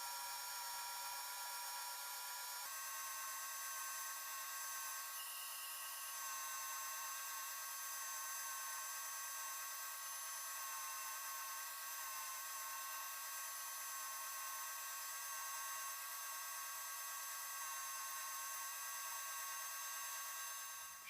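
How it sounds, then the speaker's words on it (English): Yew wood slingshot being sanded with 150 grit, a faint, steady high whine running without pause for the whole stretch, distant-sounding and without talk. "150 grit is like the middleman, not aggressive but not gentle either, just quietly doing the work in between."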